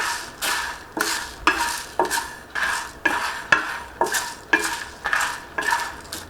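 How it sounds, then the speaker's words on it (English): Fenugreek seeds sautéing over a low flame in a pan, a regular rhythm of about a dozen scraping stirs over a soft sizzle, close up, without speech. "here goes quarter teaspoon of methi seeds. And now folks, on low flame saute for a minute"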